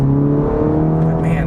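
Turbocharged 380 lb-ft four-cylinder of a 2020 Cadillac CT4-V pulling hard under acceleration, a steady loud engine drone with rising pitch heard from inside the car.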